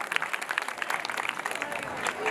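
Audience applause at a Bhagavat Saptah religious gathering: dense, steady clapping from a crowd that carries on without a break for the whole stretch.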